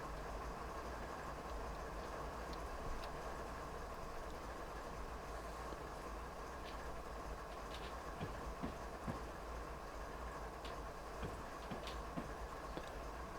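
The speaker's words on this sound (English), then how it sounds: "let me start slowing down here. Full service brakes." A long freight train slows under braking on Marias Pass in the Train Sim video game, with a low steady rolling rumble and sparse, faint clicks of wheels over rail joints, with no talk.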